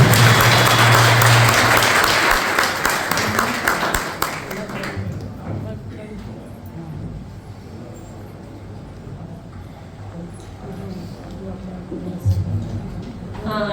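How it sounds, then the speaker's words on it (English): An audience at a book series launch claps loudly for about four seconds, then the applause thins and fades under a voice that keeps talking, with a brief renewed swell near the end. "We need a special clap to Nitin Ram sir"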